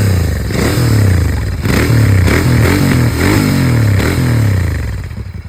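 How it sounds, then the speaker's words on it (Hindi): A GT650 motorcycle on its stock exhaust revs repeatedly, loud and close, with rhythmic throttle blips rising and falling about every second over a steady idle. "अब ये स्टॉक का एग्जॉस्ट सुनिए आप सर"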